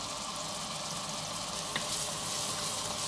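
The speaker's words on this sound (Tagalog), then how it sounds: "Isahin ko lang yung bawang at sibuyas na yan hanggang sa maluto." Garlic and onion sautéing in a pan, a steady, fairly quiet hissing sizzle that carries on evenly throughout with a faint tap midway.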